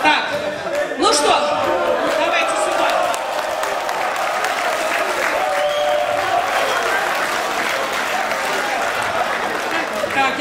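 A concert audience applauds steadily and loudly throughout, dense clapping with some crowd chatter mixed in and a brief voice near the start.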